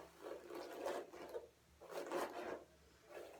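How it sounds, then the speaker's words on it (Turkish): A comb drags through curly hair in slow repeated strokes, a soft close-up raspy rubbing that rises and fades about three times. "İlk başta normal tarıyorum."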